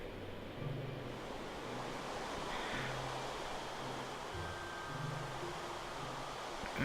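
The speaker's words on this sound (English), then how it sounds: "Sounds like it's absolutely chucking it down." Heavy rain falls in Minecraft as a steady broadband wash of noise, constant and moderately loud throughout, with faint low tonal sounds underneath.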